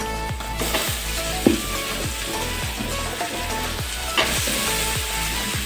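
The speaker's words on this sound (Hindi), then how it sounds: "इसमें हम दे देंगे टमाटर," Tomatoes fry in a pan with masala and onion under a loud, steady sizzle, while a spoon scrapes and stirs in a regular rhythm close by.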